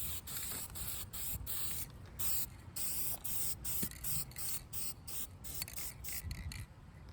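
A first coat of spray paint going onto the loader arms of a Bobcat 743, heard as a run of short hissing bursts in a quick, irregular rhythm, close and fairly soft.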